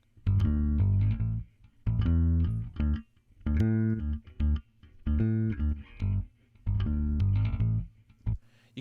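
An electric bass runs through a compressor with its sidechain filter switched on and off, playing a repeating pattern of deep, thick notes in short bursts with brief pauses, alone and fairly loud.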